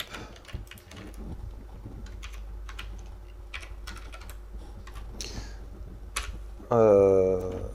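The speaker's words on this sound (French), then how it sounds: "alors je tape et ensuite je vous explique si vous n'avez pas compris" Fingers tap on a computer keyboard in bursts of quick, close clicks while someone writes code. Near the end a short, louder voice-like sound cuts in over the keys.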